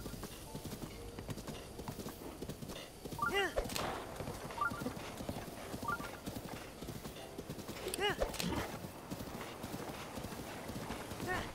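A horse in the video game Zelda: Breath of the Wild trots with steady clip-clopping hooves and lets out a couple of whinnies, all heard beneath continuous talking.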